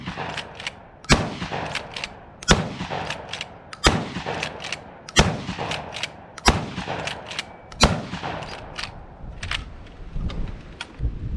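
Black Aces Tactical 12 gauge lever-action shotgun fired close up in six loud, sharp blasts spaced about every one to two seconds, each with a brief clatter of the lever cycling between shots.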